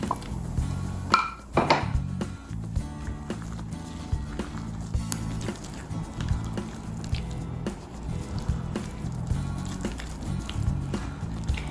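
Low carb keto buchi dough ingredients, including psyllium husk, are stirred together in a bowl, giving wet squishing, clinking utensil taps and sticky dabbing sounds close up, with no talking.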